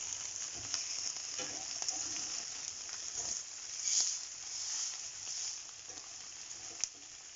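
Kale, pea and turkey omelette frying in a pan, a steady close hiss and sizzle with small crackles and pops throughout, no talking.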